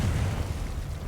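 Confringo blasting spell going off in Hogwarts Legacy, a continuous low rumbling boom with a deep, sustained roar and no clear separate hits across the short moment.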